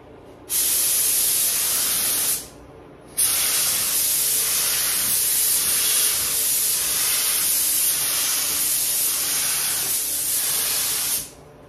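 A spray gun run at about 2 bar lays a finish coat on a pedestal being refinished. It gives a loud, steady atomizing hiss in two long bursts separated by a brief pause.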